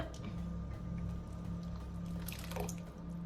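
Liquid pours steadily into a pot while making rice pilaf, with a soft gurgling splash and low rumbling, fairly quiet and close.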